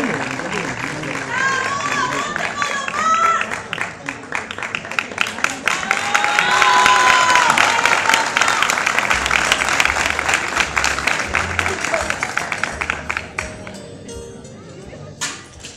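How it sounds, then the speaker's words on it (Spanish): Applause from the audience at the 2016 AIE-SGP music award ceremony, dense and sustained for about fifteen seconds, loud and close with crowd noise mixed in, thinning toward the end. "Un fuerte aplauso nuevamente."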